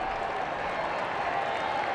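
A stadium crowd roars steadily at a Washington at Indiana college football game on a third-and-seven, a continuous broad wash of cheering with no distinct breaks, moderately loud and distant.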